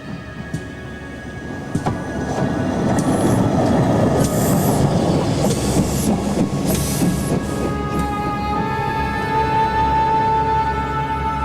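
A railway engine rumbles in and grows loud, wheels clattering on the rails and a high metallic squeal rising as it rolls steadily past close by.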